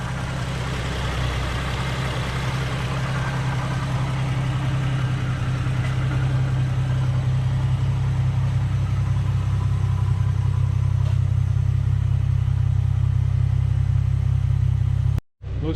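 Straight-piped Infiniti G35 idling with its exhaust running through the stock flange, a steady deep droning rumble held close and loud for about fifteen seconds before cutting off abruptly.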